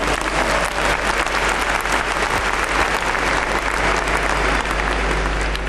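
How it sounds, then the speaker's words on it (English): Loud, continuous applause from a church congregation during a service, a thick wash of clapping that holds steady from start to finish without any talking on top. "if you are clapping, you clap nicely"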